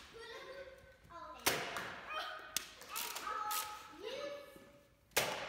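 A Nerf Rival Stormtrooper blaster fires foam balls in a few sharp thumping shots, close and fairly loud, spaced across the stretch with people talking between them.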